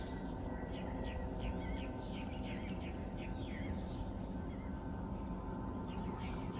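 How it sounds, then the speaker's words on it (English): Birds chirp and twitter repeatedly over a steady, dense background hum, the calls small and somewhat distant. "And all the bird sounds"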